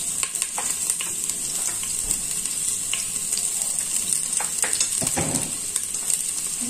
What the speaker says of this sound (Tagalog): Lagayin na natin yung bawang natin.